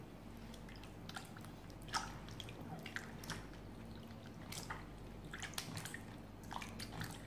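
Flour dough being rinsed and kneaded in water to make vegetarian merguez, soft wet squishing and dripping sounds, fairly faint and close, repeating irregularly without talk.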